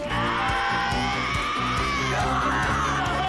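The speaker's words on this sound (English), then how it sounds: "Just a bunch of screaming." Screaming from the Hazbin Hotel animated pilot, a sustained loud shrieking voice over rhythmic pulsing music and sound effects.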